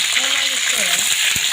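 Whole eggplant curry frying in a pan gives off a steady, close sizzling hiss throughout, with faint murmuring voices underneath.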